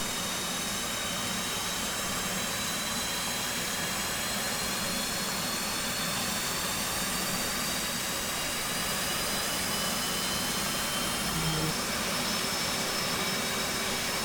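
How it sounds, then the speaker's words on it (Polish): An F/A-18C jet engine starting in the video game DCS, with the right engine spooling inside a hangar, gives a continuous loud turbine roar and high whine that rises gradually and holds steady without a break. "ja odpalam jeszcze raz na szybko. prawy silnik."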